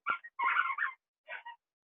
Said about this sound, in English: The dog is killing a toy.